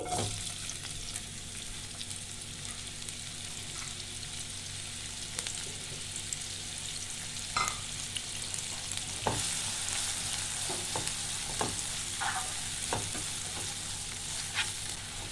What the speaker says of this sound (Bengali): 1 মিনিট পেঁয়াজটা একটু হালকা করে ভেজে নেব।